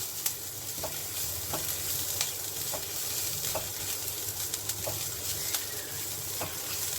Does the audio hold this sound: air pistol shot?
no